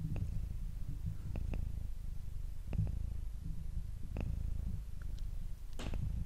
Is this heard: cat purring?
yes